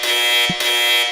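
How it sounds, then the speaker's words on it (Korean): Synthetic missile lock-on warning tone inside a fighter cockpit during a chase, a loud steady tonal alarm sustained through the clip with a brief dip and low thump near the middle. "미사일 로크온 경보음."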